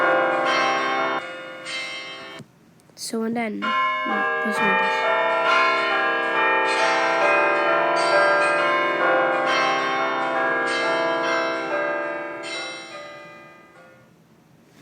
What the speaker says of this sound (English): And then I'm gonna put bell tower.